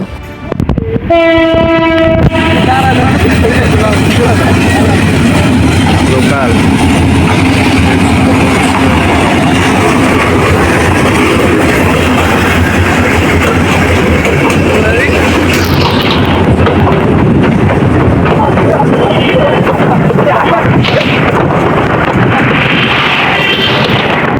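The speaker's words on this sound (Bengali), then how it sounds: "ইতিমধ্যে লালমনি এক্সপ্রেসটি স্টেশনে ঢুকে পড়ল" Lalmoni Express passenger train pulling into Bogra railway station, opening with a loud horn blast, then a continuous heavy rumble and clatter of wagons rolling close by, with crowd noise and a few voices in the background.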